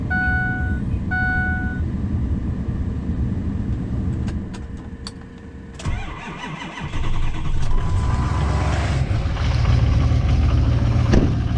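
A 2004 Ford F250 with a 6.0 Power Stroke diesel cranks over in 3-degree cold, catches near the six-second mark and settles into a loud, rough, clattering idle that builds slightly toward the end.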